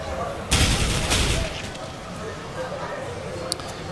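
Gunfire in a Counter-Strike: Global Offensive grand final match: a short burst of loud shots, then quieter game noise and a faint click, heard under a caster's excited commentary.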